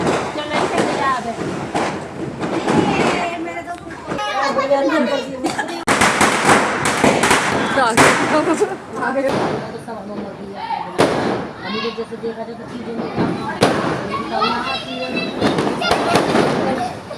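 Diwali firecrackers burst and crackle in dense, overlapping volleys of pops and bangs, loud and close, while people talk and shout throughout.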